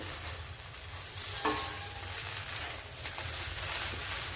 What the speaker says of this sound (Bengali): ঢাকাটা তুলে মাছ একটু কিন্তু নেড়ে দিতে হবে।